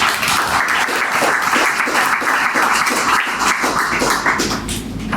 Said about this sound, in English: So put our hands together for Kira